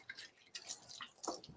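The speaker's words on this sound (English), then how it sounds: "So I'm just going to rinse my fingers off really quickly here." Fingers rinsed quickly under running tap water in a kitchen, a soft, faint splash and trickle lasting a second or so.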